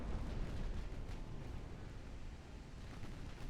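Torpedo explosions in a naval warfare game, a continuous low, rumbling roar of blasts that holds steady for several seconds with no clear breaks, dense and heavy with no voices.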